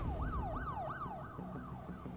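A wailing siren sweeps up and down repeatedly, loud and steady, with a faint road rumble beneath.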